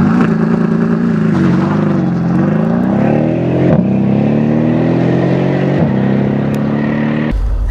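A twin-turbo 2013 Mercedes-Benz SL63 AMG Roadster accelerates hard at high altitude, its loud engine note climbing steadily, dipping briefly at two gear shifts, then pulling upward again.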